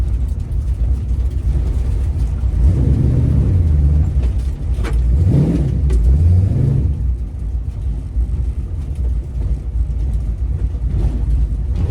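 A car engine rumbles on a first test drive, a loud low drone that swells as it accelerates and then settles back to a steady cruise, continuous and close throughout.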